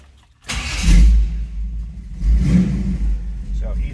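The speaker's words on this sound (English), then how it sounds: "Let's go ahead and fire this truck up so you can hear it running." A 1948 International pickup street rod cranks briefly and fires, its engine catching with a loud rev, then settling into a steady close-up idle with a second blip of throttle; a voice speaks faintly around it.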